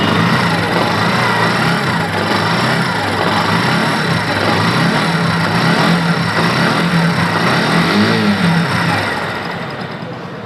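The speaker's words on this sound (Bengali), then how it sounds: "তো আমি বাইকটি স্টার্ট করলাম।" A motorcycle engine runs loud and close after starting, with a steady idle rumble and rising revs toward the end before easing off, no talk over it.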